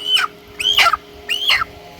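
Broiler chickens on a poultry farm give three separate rising squawks at an even pace, each call sharp and fairly close, over a faint low steady hum with quiet gaps between.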